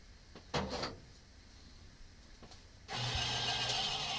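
A bandsaw motor switches on, its whirring hum rising abruptly and holding steady and loud to the end, after a few brief knocks and rustles in a quiet room.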